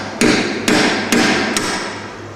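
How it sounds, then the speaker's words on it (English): A mallet strikes Game Boy Color parts during a repair, four firm, evenly spaced blows landing roughly every half second, loud and close with nobody speaking. "Mallet."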